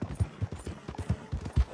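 Horse hooves clopping in a video game, a steady, fairly close rhythm of about two strikes per second over low ambient noise, each hit thudding and distinct.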